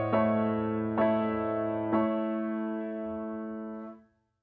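Piano playing a Chopin prelude figure, three sustained chords struck about a second apart in the right hand with a low bass note, then ringing out and fading to silence; close, soft and solo.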